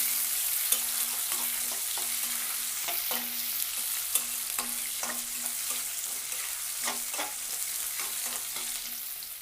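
Chopped onions for an Andhra-style drumstick sambar sizzle steadily in a pan, a continuous close frying hiss broken by repeated sharp clicks and scrapes of a spoon stirring, with no talking.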